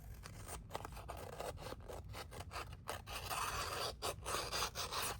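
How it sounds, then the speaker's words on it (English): Scissors run along the edge of a magazine page, a rapid series of crisp snips and scraping rubs, close and fairly quiet with no talking. "Just running your scissors along the edge."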